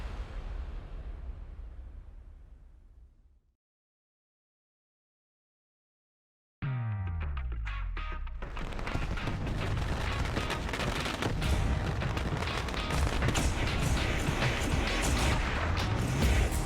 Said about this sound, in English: Fireworks popping off above our heads here at the virtual Eldora Speedway